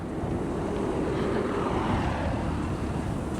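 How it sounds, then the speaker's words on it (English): Strong wind buffets the microphone in a steady, loud roar, with a broad rushing noise and no voices, near Tokyo's Imperial Palace. "it suddenly got really windy here"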